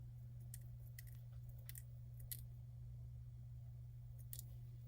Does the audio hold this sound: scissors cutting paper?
yes